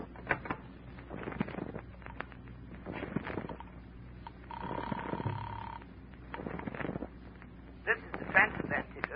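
Telephone used to place a call in an old radio drama, a brief ringing tone heard midway between stretches of talking voices, with a few faint clicks.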